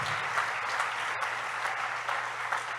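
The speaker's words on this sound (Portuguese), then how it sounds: "aplauda o nome de Jesus, louvado seja o Senhor." Sustained applause from a church conference audience in a large hall, steady and dense clapping throughout with no break.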